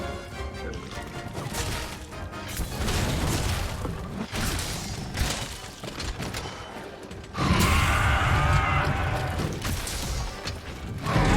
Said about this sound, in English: It still does the explosion.